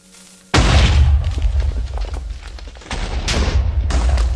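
A loud, sudden blast from a Minecraft TNT cannon erupts, followed by rumbling and a second burst of explosions close by, with no talking.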